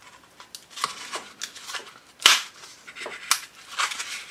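A cast statue base gets worked loose from its mold in a string of sharp cracks, pops and crunchy snaps, close and uneven, with one louder crack midway and no talking.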